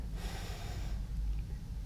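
During the cat-cow yoga pose, one soft, breathy inhalation is drawn in. It sounds like a faint, airy rush over a low background hum, with no one speaking.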